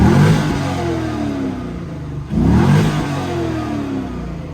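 A car engine with a worn exhaust revs hard twice, each surge rising to a loud roar with a throaty exhaust rasp, a brief dip between them, heard up close.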